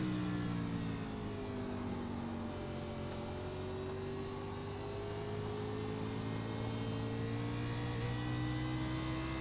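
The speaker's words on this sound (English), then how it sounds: "You can just hear riding along in the car how sensitive that throttle is out of the corners." A race car engine in a racing video game at Richmond Raceway drones steadily with rising and falling pitch as the throttle comes on out of corners, heard from inside the car with no talk.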